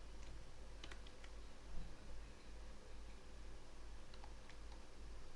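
Typing on a computer keyboard, scattered light key clicks at an irregular pace over a steady hiss and low hum, close and faint.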